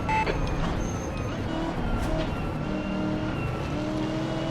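A simulated race car engine in the video game Assetto Corsa roars steadily and loudly throughout, with a continuous dense rumble and some rising tonal whine, no one speaking.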